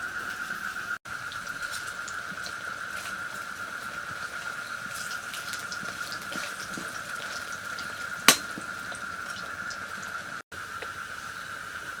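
Pakoras of helencha greens and coriander leaves deep-frying in oil, giving a steady, even sizzle throughout with one sharp click partway through; close and alone, with no talk.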